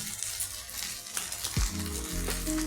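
Rice frying in a pan for prawn pulao, a short burst of sizzling hiss with a brief scraping stir partway through.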